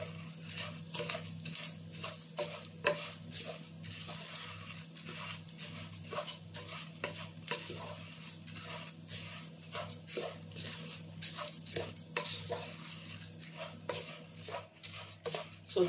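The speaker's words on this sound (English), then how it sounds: "I'm going to fry my rice." Rice frying in a pan on low-to-medium heat, stirred with a utensil: a steady low sizzle under frequent clinks and scrapes against the pan, close by.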